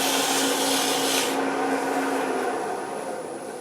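Hand sanding of a wooden mushroom birdhouse spinning on a lathe makes a steady, close abrasive hiss that eases off partway through and continues more softly.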